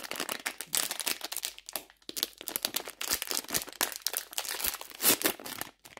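A plastic wrapper around a sugar-free, low-carb Fito Forma choco-pie style cake is pulled open up close, giving repeated sharp crinkles and rustling bursts over six seconds with no talking.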